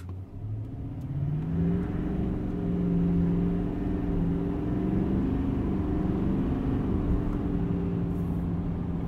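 A 2020 Chevy Silverado 2500 with a Duramax diesel accelerates hard from a launch in two-wheel drive with traction control on, its engine droning loud and steady from inside the cab as the pitch climbs through the gears.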